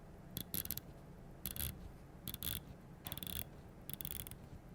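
Quiet, close clicking in short bursts as a Tudor Pelagos FXD watch's ratcheting bezel is turned clockwise notch by notch, with brief pauses between turns.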